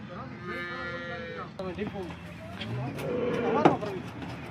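Cows moo several times, long low drawn-out calls close by, with other animal noises and faint voices in the background.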